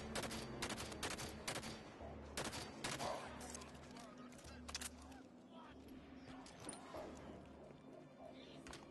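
Turret fire in Halo 5, repeated bursts of heavy automatic shots at a steady, rhythmic pace over a low hum, with voices talking throughout.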